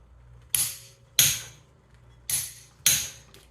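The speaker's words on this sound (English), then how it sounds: "I also haven't torqued the wheel yet" Torque wrench tightening a wheel bolt on a VW Tiguan during water pump and CV axle work, four sharp close clicks in two pairs, each snapping in and fading quickly against a quiet background.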